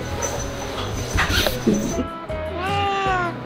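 A cat meows close by, a short plaintive call near the end, following some soft rustling and a brief voice.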